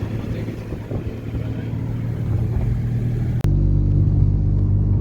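A car drives along a road through Bosnia, its engine giving a steady, close low rumble from inside the cabin that continues without pause.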